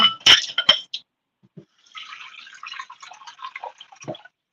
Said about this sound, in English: Let me grab some more water and add to that very quickly.